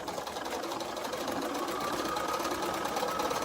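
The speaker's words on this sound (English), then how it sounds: "I'm going to sew all the half square triangles again like I did before." A sewing machine runs steadily while stitching quilt half-square triangles cut with AccuQuilt dies, giving a continuous close whirring motor drone with fast even needle chatter and no pauses.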